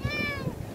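A Siamese cat, found wandering inside a hotel, gives a single short meow, close by and moderately loud over a low background murmur.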